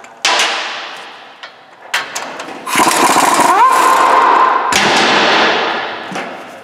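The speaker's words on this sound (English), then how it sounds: "I'm using 17 millimeters on my impact." An impact wrench with a 17 mm socket works loose the caliper mounting bracket bolts on a Toyota Tacoma. Loud clattering bursts come with a steady whine, with metallic thuds and clangs before and after.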